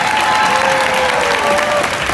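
A crowd at an elementary school 5th grade graduation claps for award winners in a thick, continuous burst of applause, loud and sustained, with faint voices mixed into the clapping.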